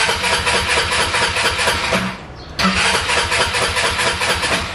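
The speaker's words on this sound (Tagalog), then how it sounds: "So kung susubukan kong i-start habang nakababa yung kanyang side stand, dapat syempre hindi siya mag-start." An Easyride 150P motorcycle is cranked with its side stand down, giving a rapid, rhythmic starter churn that breaks off briefly midway and then resumes, loud and close.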